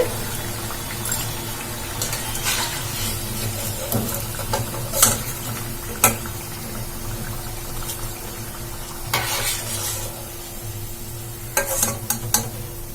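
Urad dal vadas fry in hot oil with a steady, even sizzle and bubbling all the way through, broken by a few sharp clinks and scrapes of a utensil moving them around the pan.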